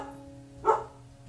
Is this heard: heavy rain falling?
no